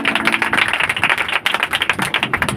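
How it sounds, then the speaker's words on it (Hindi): A congregation at a Sunday holy communion meeting claps loudly and fast, a close, rapid patter of hands that stays steady throughout. "प्रभु के लिए जोरदार तालियां"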